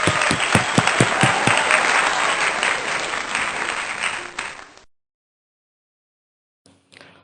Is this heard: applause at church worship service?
yes